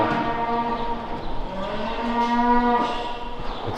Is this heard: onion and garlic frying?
no